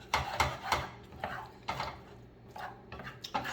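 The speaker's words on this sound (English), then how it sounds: "Stir it in with the eggs" Melted butter being stirred into eggs in a pan for steak and eggs: close, irregular scraping and tapping strokes against the pan, several distinct clatters spread over a few seconds with a quiet pause between them.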